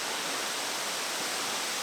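Cachoeira do Engenho Velho waterfall, heard at dawn from a campsite beside it: a loud, steady, broadband rush of falling water, constant and close.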